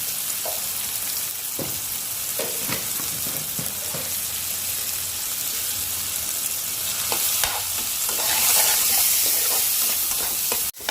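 Onion and tomato cook with salt in a pan for a Maharashtrian baingan bharit, giving a steady close sizzle with occasional spoon scrapes and clinks throughout, growing a little louder toward the end.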